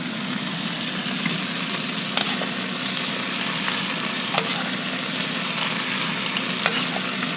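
Spaghetti sizzles and fries steadily in a pan of garlic oil with broccoli, a continuous hiss broken by a few sharp scrapes and clinks of a utensil tossing the pasta.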